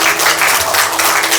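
Applause fills a Korean award ceremony hall as the board chairman is welcomed to the stage, a dense, steady wash of clapping from a large audience that holds evenly throughout without any voices.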